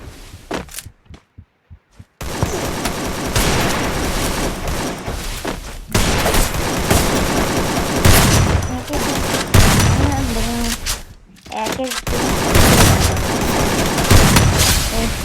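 Loud, dense bursts of automatic gunfire and explosive booms from the Free Fire video game, nearly continuous volleys broken by brief gaps, with a voice faintly mixed in.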